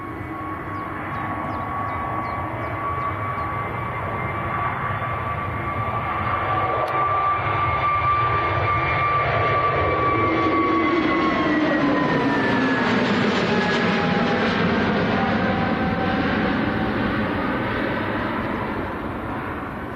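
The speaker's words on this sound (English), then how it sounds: "More aircraft taxiing across for departure as well" At Manchester Airport an aircraft taxis for departure with a loud, steady jet engine roar and a high whine. Partway through the whine shifts in pitch as the plane passes at close range. The sound runs continuously, with no voices.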